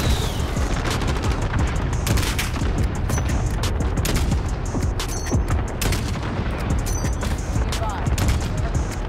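Dense, continuous gunfire from Call of Duty Modern Warfare fills the stretch, with rapid overlapping shots and booming impacts hammering loudly and without pause.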